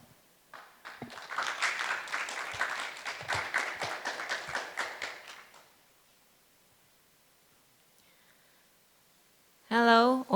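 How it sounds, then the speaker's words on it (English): Audience applause welcoming a speaker at a session of the 2021 P4G Seoul Summit, a dense burst of clapping lasting about five seconds before fading to near silence, followed by a brief voice at the end. "Please welcome her with a round of applause."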